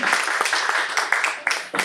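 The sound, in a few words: round of applause for a speaker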